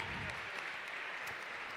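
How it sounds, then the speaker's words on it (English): A crowd at a college men's basketball event claps steadily, a dense, even wash of applause that continues throughout. "Let's give him a big round of applause."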